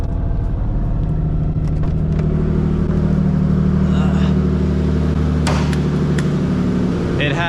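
A 1999 Nissan S15 Silvia Spec R with a swapped 2007 VQ35HR V6 and custom single turbo, engine droning steadily from inside the car as it drives, with a voice talking over it and a few clicks.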